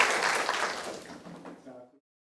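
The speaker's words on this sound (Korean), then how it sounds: "오늘 좋은 말씀 하신 황교안 박사님께 큰 박수 부탁드리겠습니다." An audience applauding after a lecture, a moderate burst of clapping that tapers off and ends abruptly.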